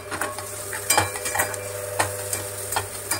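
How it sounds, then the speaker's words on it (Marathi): Green chili thecha and onion sauté in a pan for a chana leaf sabji, giving a soft steady sizzle broken by the irregular scrape and clink of a spoon stirring, with no talk. "आणि ठेचा सुद्धा व्यवस्थित परतून घ्यायचा।"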